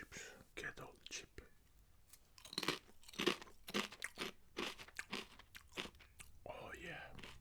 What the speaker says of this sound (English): From all the chips, this is the one most crunchy.